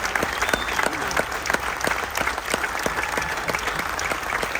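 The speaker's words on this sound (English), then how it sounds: "Give a round of applause for all these wonderful people" An audience on a cruise ship gives a round of applause for military spouses during a tribute event. The clapping is dense and steady, with sharp individual claps standing out and faint crowd murmur underneath.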